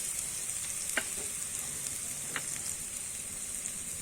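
Spice masala for prawn malai curry frying in a pan, a steady close sizzle with a few soft scrapes of stirring, no talk.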